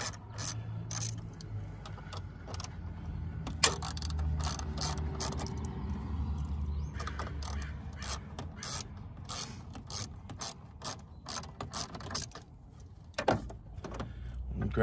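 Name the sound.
disconnecting a hose from a car's turbo inlet pipe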